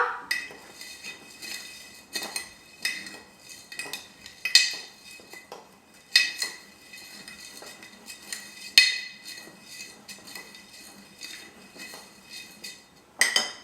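Ingredients for homemade powdered laundry detergent are stirred in a container: steady scraping and clinking of a utensil against the sides, with sharper knocks every couple of seconds, close and fairly quiet.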